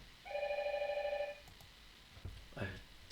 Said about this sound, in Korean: 이게 전화가 오나?